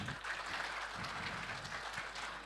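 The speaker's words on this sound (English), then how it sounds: "Can we have a round of applause" A seminar audience at a retail marketing knowledge event gives a round of applause, a steady, dense patter of clapping at moderate loudness over a low background hum.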